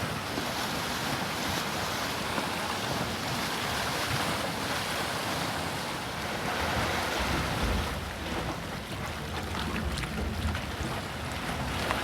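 A roaring steam vent, the Dragon's Mouth hot spring at Yellowstone, churns steadily for the whole stretch as a loud, continuous rumbling wash, with wind buffeting the microphone and no talking.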